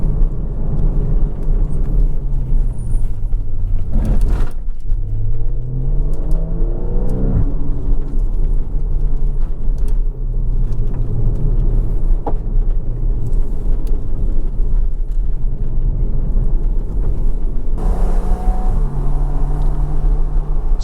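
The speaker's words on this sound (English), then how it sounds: "Really hear that sport exhaust." A Porsche 981 Cayman S with its naturally aspirated engine and sport exhaust, heard from inside with the windows down, rising and falling through several revs and gear changes, loud and steady throughout with no talking.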